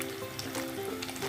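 Pizza balls deep frying in hot oil give a steady, close sizzling crackle, with no one talking.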